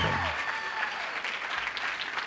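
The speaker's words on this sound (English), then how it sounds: "Give a nice round of applause for Danielle." An audience at a speaking event applauds in a steady wash of many hands clapping, fairly distant and continuous.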